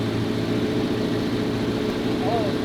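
A 1986 Ford F250 truck's engine idles with a deep, steady exhaust rumble through its pipes close by, continuous and unchanging throughout.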